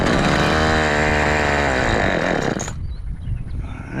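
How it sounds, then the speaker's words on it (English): A Homelite chainsaw, freshly fixed with a carburetor change after sitting for years, roars loudly and steadily, then cuts out abruptly near the end, leaving a quieter rumbling idle. "I got the power saw, chainsaw all fixed up"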